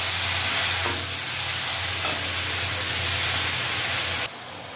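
Okra and shrimp curry simmering in a pan just after water goes in, a steady close sizzling hiss with faint stirring, cutting down abruptly at the end.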